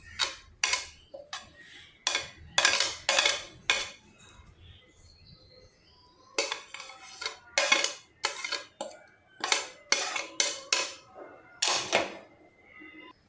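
A utensil clinks and taps repeatedly against a bowl while an egg is beaten with cumin, salt and spices for egg paratha filling, in quick irregular bursts of bright clatter, close and fairly loud, with no talking.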